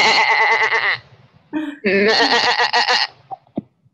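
Sheep bleating loudly and close over a video call, long wavering bleats at the start and again after a short pause, followed by brief chuckling sounds.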